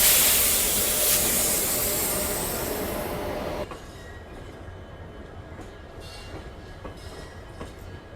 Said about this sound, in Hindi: सामने से आप देखो अराइवल भी हो रहा है। ये मेरे ख्याल से पूरी जोधपुर एक्सप्रेस आ रही है।